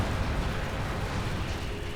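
A German Panther tank is destroyed in the strategy game Company of Heroes 2, giving a loud, sustained, rumbling blast that fills the whole moment.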